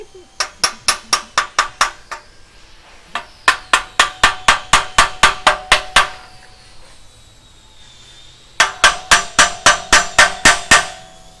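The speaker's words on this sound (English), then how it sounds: "Sometimes you gotta use that hammer too." Rapid, sharp metallic taps from a small hammer on metal while working on a Toyota 4Runner, in three quick bursts of about a dozen strikes each, with brief pauses between.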